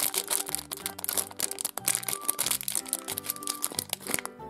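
A plastic packet from a Hatchimals Pixies surprise egg crinkles and crackles as it is handled close up, a busy rustle heard under background music.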